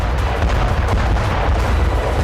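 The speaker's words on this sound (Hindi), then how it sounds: "रूस के ठिकानों पर यूक्रेन ने अमेरिकी 155 mm क्लस्टर आर्टिलरी से हमला किया, जिसके बाद कई छोटे छोटे धमाके हुए" A US 155 mm cluster artillery strike on Russian positions sets off a rapid, dense crackle of many small explosions. The blasts are loud and close and run together without pause.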